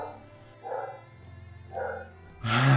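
Dogs barking in a few separate bursts at moderate distance, with a louder, noisier burst at the end.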